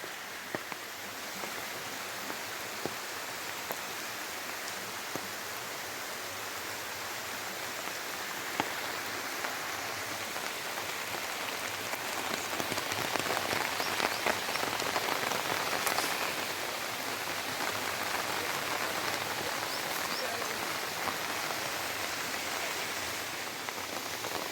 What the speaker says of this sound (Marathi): मित्रांनो पाऊस सुद्धा जोरदार पडायला सुरुवात झाली आहे बघा